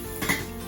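A metal lid set onto a cooking pot on the stove, a single soft clank close by against a steady low kitchen background.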